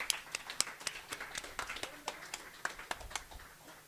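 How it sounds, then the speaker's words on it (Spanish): Scattered clapping from an audience at an anniversary ceremony for a mobile dental clinic, a few hands striking in loose, uneven claps at moderate distance, fairly quiet with no talk over it. "y el aplauso aquí es para ustedes"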